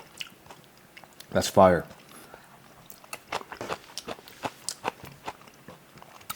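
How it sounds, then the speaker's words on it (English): Green onion kimchi being bitten and chewed up close, a short crunchy burst followed by softer intermittent chewing and mouth sounds, with a voice speaking briefly. "Let me just try this on its own. The green onion kimchi."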